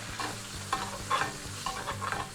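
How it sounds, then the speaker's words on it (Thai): Dry-aged Thai wagyu beef is basted with butter and garlic in a pan. The butter sizzles steadily while a spoon scrapes and stirs in rhythmic strokes, close up and with no voices. "เริ่มที่ทำการตัดเนยนะครับ พร้อมกระเทียมเลยนะครับ เบสลงไปบนตัวเนื้อ"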